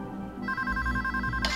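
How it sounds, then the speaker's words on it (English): A telephone rings in the video game Payday 2 during a bank heist, a clear electronic ringtone with steady repeating tones over low background game noise. "One of you guys answer the phone and pass me through."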